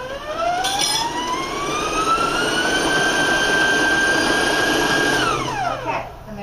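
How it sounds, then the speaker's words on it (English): An electric stand mixer with a paddle runs through lemon cake batter for a half sheet cake, its motor whine rising in pitch, holding steady and then winding down near the end, loud and close. "I'm going to turn the mixer on just"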